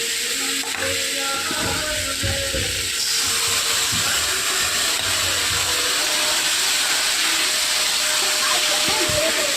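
Diced potatoes and capsicum fry in hot oil in a pan, giving a steady, close, continuous sizzling hiss with faint clinks of a spatula.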